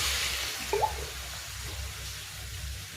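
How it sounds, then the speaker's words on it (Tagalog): Water poured into a cooking pan of sautéed chayote and carrots with ground pork, a brief splash and gurgle followed by a steady hiss and sizzle, close and moderately loud. "Maglalagay ako dito ng tubig."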